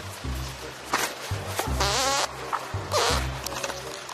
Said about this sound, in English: I gotta fart, hang on.